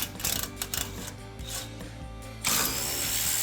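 A hand ratchet backs out 15 mm bolts on the front bumper of an F-250 pickup, with quick repeated clicking strokes up close, then a louder steady metallic whir as the bolt spins free.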